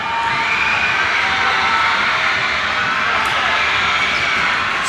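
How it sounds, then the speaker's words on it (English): A basketball crowd at a close high school game screams and cheers in a loud, continuous roar that fills the gym without a break, with voices blending into one dense wall of noise. "Just let that sound pierce through of the crowd screaming,"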